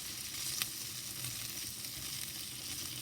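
Food frying in a little olive oil with the fat rendering out, a soft, steady sizzle with faint crackles and a quick pop, quiet and without talk.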